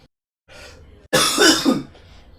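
A soft breathy throat sound is followed by a loud, harsh, close cough with a raspy rattle.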